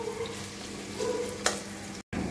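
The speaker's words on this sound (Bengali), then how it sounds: "পেঁয়াজগুলোকে আমি হাফ ভাজা ভেজে নিচ্ছি" Chopped onions half-frying in oil in a pan, a steady near sizzle with light stirring and one sharp clink, then a brief drop to silence.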